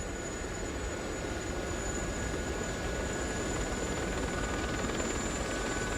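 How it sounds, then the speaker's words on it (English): Gazelle helicopter rotor in the DCS flight simulator decelerating, a steady dense rotor wash and turbine whine with faint rhythmic blade slap, constant and moderately loud. "Nice sound of the blades slapping when you start to decelerate"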